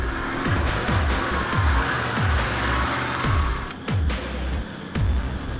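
A cruiser 4WD crawling over big rocks, ruts and boulders on a fire trail, its engine droning loudly inside the cabin with repeated rhythmic thumps and jolts as the tyres climb.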